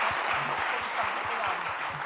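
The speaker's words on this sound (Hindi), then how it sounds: "जरा अपन तालियां बजाएं" Audience applause at a Jain religious question-and-answer gathering, a steady wash of clapping that runs evenly for about two seconds with no voices standing out.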